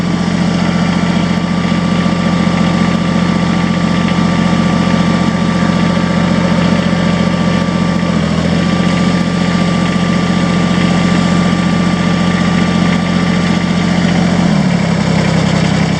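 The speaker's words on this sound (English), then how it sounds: "I'll run the loader up and down so you can kind of see the speed. I'm only running at 1800 RPM. It's barely over idle." Kubota 2360 tractor engine running steadily just above idle at about 1800 RPM, loud and close, with a constant droning hum and slight pitch shifts as the loader is raised and lowered; nobody talks.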